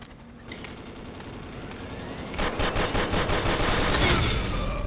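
Rapid gunfire from the commando class in the voxel shooter Ace of Spades, a burst of repeated shots starting partway through and continuing loudly over a steady background.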